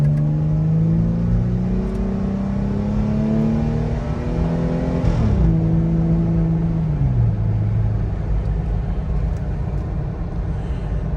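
Low engine drone of a Jeep JK with an AFE Power Mach Force exhaust and Twisted Steel Y-pipe, heard from inside the cabin while cruising, steady and subdued with a brief rev shift midway.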